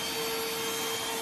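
A BSRCO cordless rechargeable 3-in-1 handheld vacuum cleaner running steadily, a close, constant motor whine with broadband airflow hiss and no pauses or speech.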